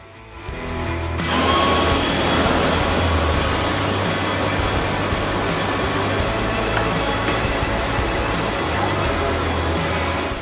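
Ryobi and Milwaukee battery leaf blowers run head to head, a loud, steady rushing whoosh with a low motor hum that kicks in after a brief quiet start and holds without a break.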